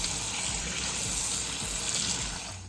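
Tap water runs in a steady, close gush over canned black beans being rinsed in a kitchen sink, holding an even level for the whole stretch with no talk.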